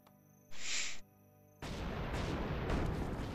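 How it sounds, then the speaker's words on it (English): Fireworks in Guild Wars 2: a sharp burst followed by a quiet gap, then a loud sustained crackling boom that rumbles on to the end, with no talk over it. "Yes, fireworks. Can never have enough fireworks."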